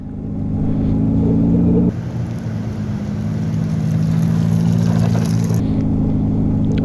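A Slingshot's engine revs hard at about 1500 RPM as its wheels spin in snow, giving a loud, close, droning rumble that dips briefly and then holds steady.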